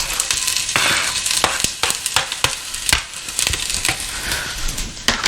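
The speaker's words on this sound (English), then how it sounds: "fry it a little" Chopped onions frying in warmed oil over medium heat, a steady close sizzle punctuated by crisp crackles and stirring clatters.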